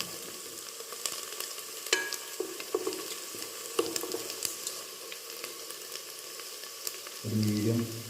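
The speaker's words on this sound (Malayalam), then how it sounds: "നല്ലോണം ഇളക്കി കൊടുക്കണം." Chicken majboos is stirred in a pot over the heat. A spoon scrapes and knocks at irregular intervals over a soft, steady sizzle, with a louder frying hiss swelling near the end and no voices.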